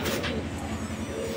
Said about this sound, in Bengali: পায়রা গুলো ভয় পাবে।